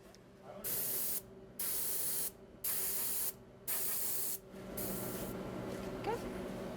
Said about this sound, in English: this technique is all spraying